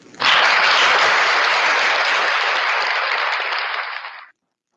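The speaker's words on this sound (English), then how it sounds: "give her a round of applause, our President, Ms. Maylene Abiba." Loud, sustained applause from a crowd at a FIRST LEGO League Philippines event, starting abruptly and holding steady for several seconds before stopping suddenly.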